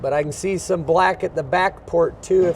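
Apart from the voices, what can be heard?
No distinct noise like a dog, phone or traffic.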